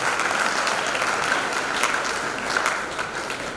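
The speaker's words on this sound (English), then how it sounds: "I'm sure that you will agree with me with a round of applause to our keynote" An audience at a university law faculty public lecture claps for a keynote speaker, a steady, moderately loud wash of applause filling the room throughout.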